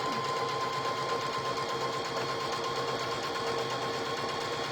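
A sewing machine stitching fabric for a primitive barrel banner, a steady close mechanical whir with fast even needle chatter running without pause.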